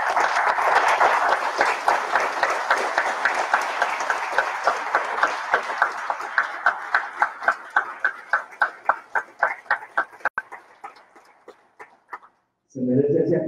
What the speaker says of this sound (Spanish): Se merece ese aplauso